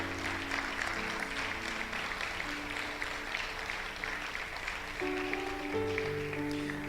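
Church congregation applauding through the whole stretch, a steady mid-level wash of clapping with sustained organ or keyboard tones underneath that change near the end.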